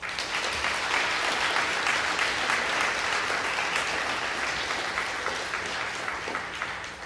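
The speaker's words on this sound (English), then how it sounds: "Give yourselves a round of applause" Steady, dense applause from a graduation crowd honoring International Baccalaureate seniors at Palm Harbor University, sustained and fairly loud across the whole stretch with no voices.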